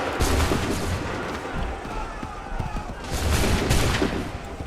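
Massed musket volleys from soldiers in the Assassin's Creed 3 video game, dense crackling gunfire rolling in two loud bursts that swell and fade.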